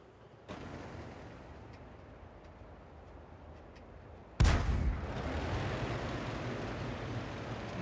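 Artillery fire in the World of Tanks video game: a faint thump early on, then a single loud, sharp artillery blast about midway, followed by a sustained rumbling roar.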